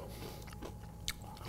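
A single crisp, crunchy bite into hot pan pizza, quiet and close, with faint chewing sounds around it.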